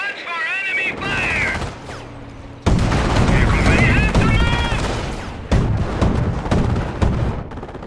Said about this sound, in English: Watch for enemy fire!